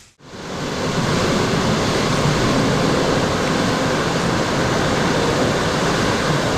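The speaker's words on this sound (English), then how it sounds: "This is a non-natural waterfall." A steady, loud rush of falling water roars continuously from a man-made waterfall under a highway viaduct at Patapsco Valley State Park, Maryland, a dense broadband splashing that fills the whole clip without pause.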